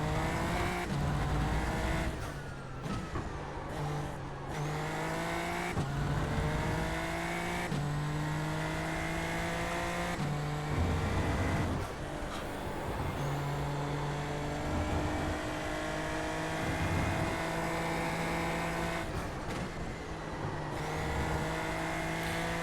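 A Super Formula Lights race car in iRacing at Mexico City, its engine revving loudly and continuously through gear changes with rising and falling pitch sweeps, no talk over it.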